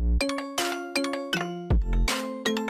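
A notification bell chime in a Fortnite-related context, a series of bright ding-dong tones ringing out in quick succession, loud and clear with no talk over it.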